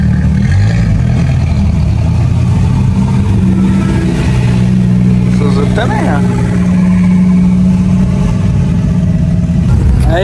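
Several car engines rev at a crowded car meet with a turbocharged square-body VW Gol GTI, producing loud, rising and falling engine drones that overlap, while people talk and shout nearby.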